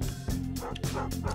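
A stray wolf in a survival video game barks and yips in quick, loud, close bursts with whimpering tones, filling the short moment without pause.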